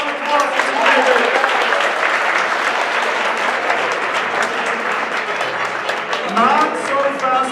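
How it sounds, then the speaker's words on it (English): An audience at a university physics event applauds a competing team with sustained, steady clapping from a large crowd, with a few voices and cheers mixed in. "Can we get a round of applause for Team David?"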